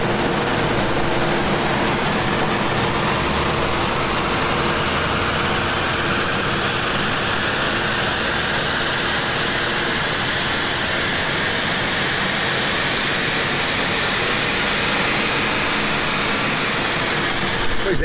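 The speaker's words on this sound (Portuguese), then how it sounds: "passamos o Onix LTZ no dinamômetro, usamos a quarta marcha do câmbio manual de 6 velocidades" A Chevrolet Onix 1.0 Turbo with a six-speed manual runs in fourth gear on a chassis dynamometer, a loud continuous engine and roller roar whose pitch climbs steadily as it revs up.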